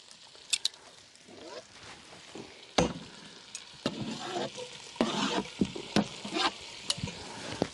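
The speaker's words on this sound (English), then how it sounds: "I'm going to throw these leeks in here." Leeks hit a hot camp oven for chicken, leek and mushroom soup, frying with a rising hiss as a utensil clatters and scrapes repeatedly, close and fairly loud.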